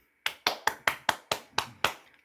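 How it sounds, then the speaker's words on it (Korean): Eight sharp, evenly spaced hand claps ring out close and clear, each a crisp single strike, from a small group applauding after a heartfelt anniversary video letter at an online talk show. "여러분 박수 부탁드릴까요?"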